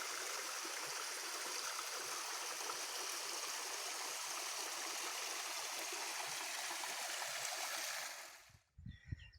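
A mountain waterfall stream with little flow in Aller, Asturias, on the way up to Estorbín de Valverde: a steady, full rush of water heard up close that cuts off abruptly near the end.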